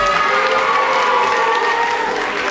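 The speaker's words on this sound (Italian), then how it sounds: "sapete accogliere con un grande applauso la professoressa Petrella?" A lively audience at a school event applauds loudly and continuously, with some cheering mixed into the close, sustained clapping throughout.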